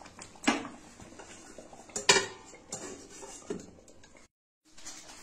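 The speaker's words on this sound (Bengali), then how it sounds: "গ্যাসটা বন্ধ করে চাপা দিয়ে দিচ্ছি।" A metal lid clatters onto a cooking pan on a gas stove as the flame is shut off, with two sharp clanks and softer knocks of cookware nearby.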